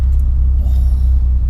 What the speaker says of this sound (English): you can always tell it's a rotary if, you know, it's got a single turbo and it's got a bridge port, and obviously the brap